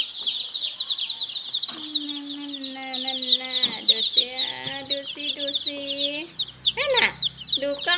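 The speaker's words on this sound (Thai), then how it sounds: "ดูสิคะไก่ชนของฟ้า ลูกเกี๊ยบกำลังเป็นลูกเกี๊ยบ" Fighting rooster chicks of Burmese and Brazilian breeds peep and cluck in a constant high-pitched chatter while someone talks over them close by.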